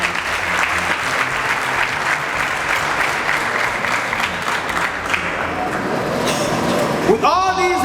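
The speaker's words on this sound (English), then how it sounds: "we have to clap for ourselves as a country" Loud, sustained applause from a large lecture audience, dense clapping filling the whole stretch, with a brief tonal sound near the end.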